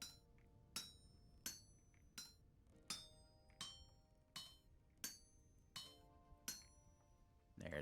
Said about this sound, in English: And just hammer us out a couple shoot sections.